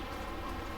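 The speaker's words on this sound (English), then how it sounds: "So you can see it's still raining right now" Rain falls steadily on a small-town street in Bryson City at Christmas, an even, close, constant hiss with no voices.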